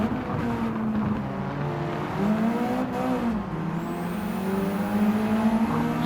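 Rally car racing in Gran Turismo 7, with an engine droning and shifting pitch as it accelerates and eases off, steady and fairly close throughout with no talk.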